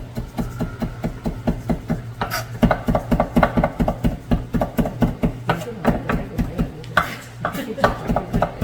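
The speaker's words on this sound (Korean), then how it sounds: "잘게 다질게요. 잘게 곱게." A knife chops rapidly and rhythmically on a cutting board, many quick close taps finely mincing shrimp, with a voice talking over it.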